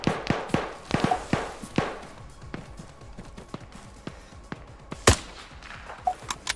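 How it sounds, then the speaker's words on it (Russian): A Kalashnikov rifle fires in the Arma 3 King of the Hill military shooter, sharp single and paired cracks in an uneven rhythm, then a sparser pause and one loud close report, with a few distant shots after. "Калаш стреляет."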